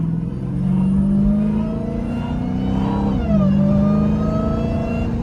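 A Dodge Hellcat with a drag pack accelerates hard from close by. A loud, sustained engine roar carries a rising supercharger whine that dips briefly at a gear change before climbing again.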